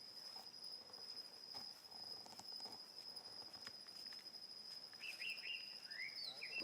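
Crickets chirp in a steady, high, unbroken trill outdoors at a moderate distance, while scattered bird calls and chirps rise near the end over a soft background hiss.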